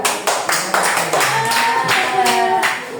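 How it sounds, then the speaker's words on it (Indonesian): Students and teacher clap together for a student group in a science class at a special-needs school in Malang, sharp close claps in quick bursts with voices calling out over them. "Beri tepuk tangan untuk kelompoknya V, Satria, dan Akbar."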